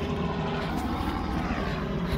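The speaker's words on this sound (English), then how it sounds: "There's a helicopter." A helicopter passes overhead during an outdoor walk, a steady, fairly loud rumbling drone that holds for the whole stretch with no one talking.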